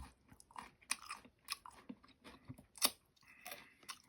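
Someone eating vegetables with sauce, with soft wet chewing and sharp crunchy bites coming in irregular bursts, close and quiet with pauses between.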